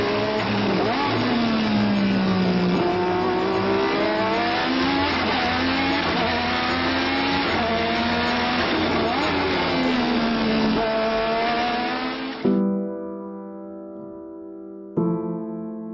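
Onboard sound from a Lola Formula 1 race car at speed: a loud, high-pitched engine scream rising and falling through gear changes, then cutting abruptly to a lower idle-like drone with a short burst near the end.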